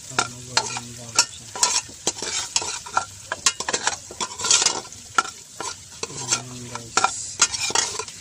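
Onions and ginger sizzling in a pan for goat papaitan, stirred with a utensil that scrapes and clinks in an irregular rhythm over a steady frying hiss, close and fairly quiet.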